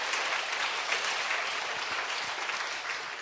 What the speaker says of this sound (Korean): 박수로 주님께 영광 돌립니다